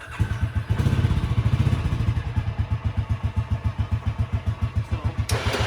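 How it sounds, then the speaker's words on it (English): Can-Am ATV engine idling while its winch runs, a steady close chugging pulse throughout, briefly rising at the start, with no talk. "You always want to have the engine running when you're running the winch"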